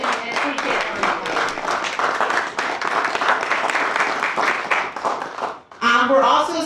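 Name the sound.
breakfast audience applauding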